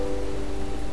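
Steady rain falls in the video game Malevolence, a continuous close patter and hiss heard alone.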